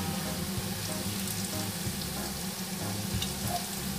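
An omelette fries in oil in a pan, a constant dense sizzle with a low bubbling hum, close and even, without any talk.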